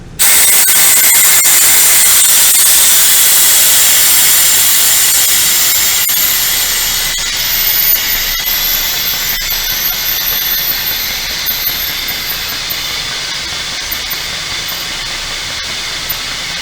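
A brake fluid bleeder machine sucks fluid out of a car's brake reservoir with a loud, steady, close hiss of air and suction that barely changes throughout, with faint clicks and no voices.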